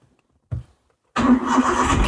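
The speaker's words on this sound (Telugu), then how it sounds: "సింగిల్ సెల్ఫ్ జస్ట్ అలా తాళం తిప్పితే స్టార్ట్ అయిపోయింది" A 2014 Hyundai Eon hatchback is started with a key turn: a short starter blip, a pause, then the engine catches and settles into a steady, close idle for the rest of the moment, with no talking.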